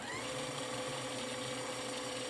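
A Janome Skyline S7 sewing machine winds a bobbin at high speed, giving a steady, close, fairly quiet whirring hum with an even motor whine and no pauses.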